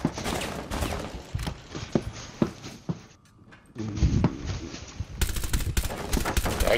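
Automatic gunfire in Rainbow Six Siege aimed at Thermite, rapid bursts of sharp shots with a brief lull partway through before heavier firing resumes.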